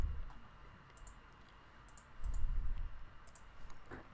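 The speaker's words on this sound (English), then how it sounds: "I swear, I'm just typing." Keys clatter on a computer keyboard in quick irregular bursts, close and moderately loud, with brief pauses between runs of typing and a low background hum.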